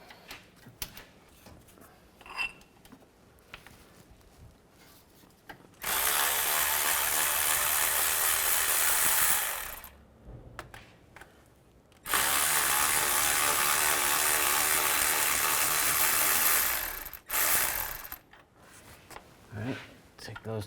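A hand ratchet loosens engine mount bolts on a 2011-2019 Dodge Grand Caravan, giving two long bursts of rapid clicking close by, with brief pauses, soft handling noises and a few quiet words between them.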